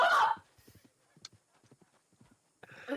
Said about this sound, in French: C'est le cheval du gosse.